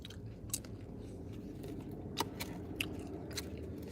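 Someone chews seasoned French fries close up, soft crunching and biting bursts scattered irregularly over a steady low background murmur, no talking.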